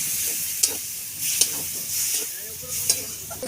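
Mustard paste sautéing with raw tomatoes in a pan: a steady soft sizzle with stirring scrapes and three sharp spatula taps spread through it, close and moderately loud, no voices.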